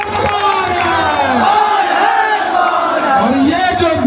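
A packed rally crowd in a village near Bhagalpur roars and cheers continuously, a dense wall of voices with rising whoops, close and loud throughout.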